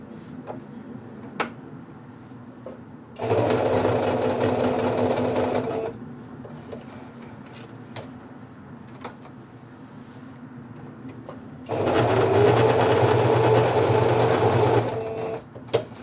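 Sewing machine quilting padded denim fabric for a bag runs in two steady buzzing stretches of a few seconds each, separated by quieter pauses with faint ticks and handling.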